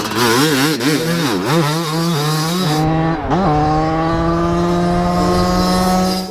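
Yamaha YZ250 two-stroke dirt bike engine revving loud and close, its pitch swooping up and down through quick throttle blips before settling into a steady high drone as the bike rides on.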